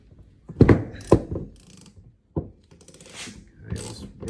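A ratchet wrench loosening the 10 mm top bolt on a Suntour XCM32 suspension fork, heard as a few sharp clicking bursts and knocks spread across the moment, fairly close, with faint talk nearby.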